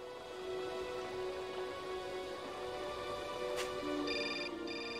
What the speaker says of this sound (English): Oh, now we get a phone call.